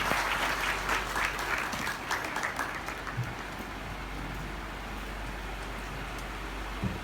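Audience applause at a Brahma Kumaris spirituality gathering: steady, dense clapping that stays even throughout, with no talking over it.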